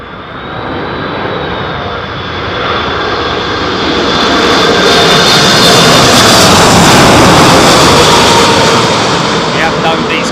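Airliner landing at Heathrow in storm-force winds, a loud jet engine roar that swells and peaks mid-way, with wind buffeting and a voice speaking over it.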